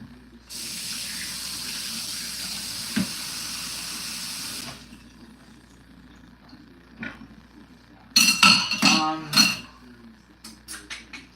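Water runs steadily from a kitchen tap for several seconds while hands are washed, then stops, followed by clattering dishes and cutlery knocks near a stove.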